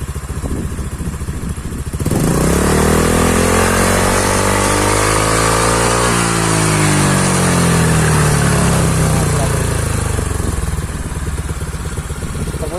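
A Honda Click 125i scooter engine revs loudly and steadily off throttle, its pitch climbing then easing back down over about ten seconds before settling to a quieter idle.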